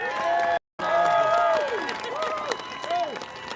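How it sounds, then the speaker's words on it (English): At a political rally in Sacramento, a crowd applauds and cheers loudly, with whoops and voices over dense clapping and a brief dropout near the start. "Another round of applause for Pastor Hibbs."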